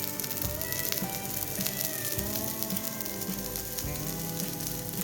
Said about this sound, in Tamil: கொத்தமல்லி நல்லா வதங்கிடுச்சு.